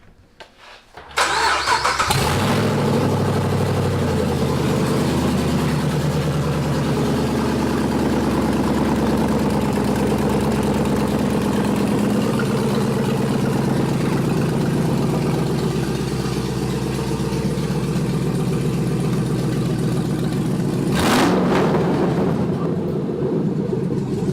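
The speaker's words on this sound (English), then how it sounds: "we're about to do a open manifold startup" A Gen5 Camaro engine with open stock exhaust manifolds cranks and bursts to life, then runs loud and raw for about twenty seconds, a harsh unmuffled roar close by, before shutting off.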